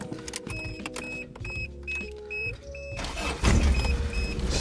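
A Toyota Celica being cranked and started, with rhythmic whirring and clicking from the starter that gives way to a louder, rougher engine catch near the end, heard up close.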